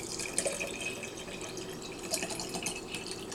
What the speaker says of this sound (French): Pour cette fois-ci, moi je mets dans celui-ci, c'est de l'eau de coco.